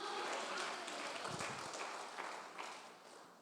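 A church congregation applauds with a dense, sustained wash of clapping that carries through and tapers slightly toward the end.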